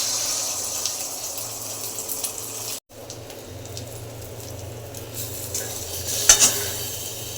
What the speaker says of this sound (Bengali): এখানে আমি প্রত্যেকটা ডিমগুলোকে এভাবে ভেজে নেব